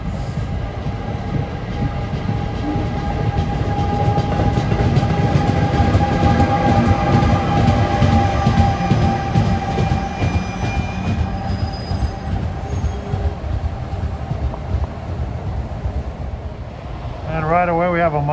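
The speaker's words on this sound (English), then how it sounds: "This is a Dover-bound train." NJ Transit Dover-bound train at Newark Broad Street station: a loud, continuous rumble of railcars with metallic wheel squeal and rattling, steady throughout, ending with a short rising whine near the end.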